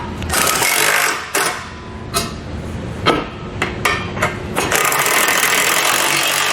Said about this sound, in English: we'll come back with a 1/2-inch socket and we'll tighten all of our hardware